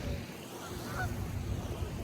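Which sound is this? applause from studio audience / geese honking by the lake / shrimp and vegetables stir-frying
geese honking by the lake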